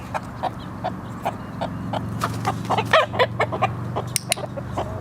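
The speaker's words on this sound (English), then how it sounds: "a chicken did just land on the fence, so he's distracted" Chicken clucking repeatedly near a horse pen after landing on a fence, a string of short, fairly close clucks over a steady low background hum.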